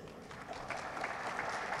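Audience applause at a political address ceremony, a short, fairly quiet spell of steady clapping heard from a distance.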